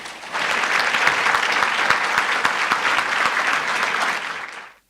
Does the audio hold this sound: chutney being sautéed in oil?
no